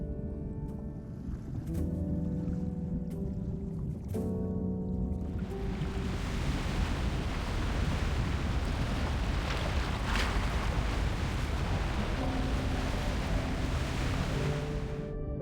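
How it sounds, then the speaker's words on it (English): Strong sea waves crash and roar in the video game Love and Deepspace, rising from a quieter start with music into a loud, continuous wash of surf and wind-like rushing. "It's the waves. They're just too strong."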